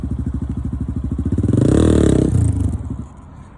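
Dirt bike engine nearby, choppy pulsing idle that swells into a louder rev and then drops away as the engine cuts off, with a faint clatter.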